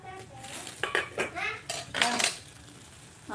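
Old-fashioned vintage plates clatter and clink in a sink during house cleaning, several quick, close knocks of ceramic and cutlery, with a few faint bits of speech in between.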